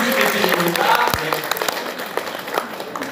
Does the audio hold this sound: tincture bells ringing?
no